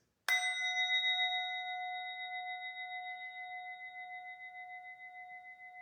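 A single remembrance bell struck once at a memorial circle, ringing out clear and bright with a sustained metallic tone that decays slowly over several seconds, heard alone with no voices.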